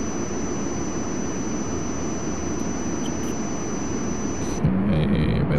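Jet airliner engines idle and taxi at Los Angeles International in the Tower! 2011 air traffic control game, a steady loud broadband roar with a high whine; the tone shifts slightly near the end.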